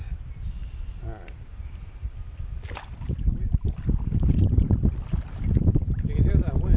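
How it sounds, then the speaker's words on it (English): Wind buffets the microphone in a low, rumbling roar that builds and gusts during kayak paddling on shallow water, with faint splashy movement and no speech. "You can hear that wind. It's blowing pretty good."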